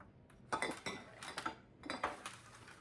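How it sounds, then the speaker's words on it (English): A metal baking tray is handled with a few soft clanks and clinks against a kitchen surface, quiet and close, coming in short separate bursts with no talking. "I've got a baking tray here"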